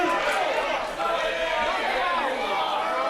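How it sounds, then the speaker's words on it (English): A wrestling crowd at a live match, a dense murmuring roar of many voices cheering and chattering throughout, with a commentator talking over it. "Crowd getting behind Devin."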